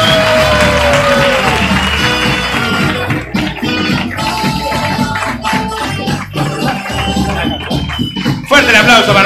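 A studio audience applauds and cheers loudly for a guest on a Spanish-language talk show, a dense continuous roar of clapping and voices with music and some talk mixed underneath.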